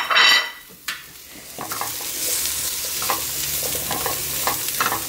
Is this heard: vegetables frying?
yes